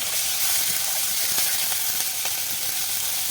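Chopped green chillies and tomato fry in a pan with a bright, constant sizzle and a few soft crackles and faint stirring clicks, close and unbroken.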